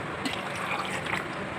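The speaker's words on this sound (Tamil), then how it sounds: "இப்போ இதை அரைச்சிக்கிறோம். கொஞ்சமாக தண்ணி சேர்த்துக்கிறோம்." A little water is poured into fermented dosa batter in a kitchen, a faint, steady liquid trickle lasting under two seconds, with no voices.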